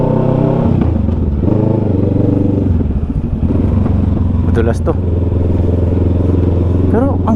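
A Kawasaki Ninja 650 being ridden on the road, its steady engine drone loud and continuous with a brief rev change, while a rider talks over it.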